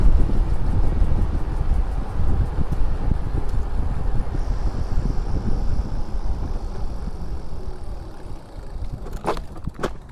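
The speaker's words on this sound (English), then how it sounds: "Windy out here. It's been windy the last few days." Strong wind blowing outdoors buffets the microphone in a constant low rumble that gusts throughout, with a brief faint whine near the middle and a couple of short knocks near the end.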